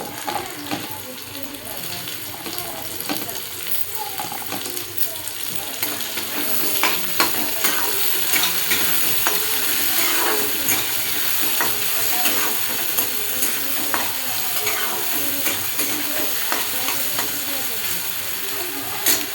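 Tomatoes added to a pan of roasted onion fry with a continuous loud sizzle and hiss, broken by frequent scraping of a stirring spoon, with brief voices faintly in the background.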